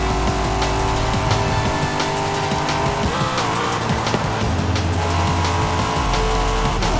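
A Corvette drives in Forza Horizon 5, its engine a loud, steady drone with shifting pitch and a brief squeal of tires partway through, alone with no voices.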